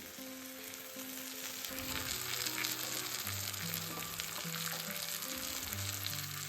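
Gethi, a mountain tuber, goes into a pan of fried tomatoes and sizzles steadily at close range, a soft crackling fry under a faint background melody with no talking.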